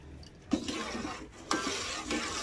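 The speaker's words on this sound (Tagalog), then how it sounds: "Haluhaluin hanggang sa maluto." A spoon stirs a cream mixture of sweetened condensed milk in a pot for fruit cocktail jelly, giving a soft scraping swish with two louder strokes, steady and close, with no voices.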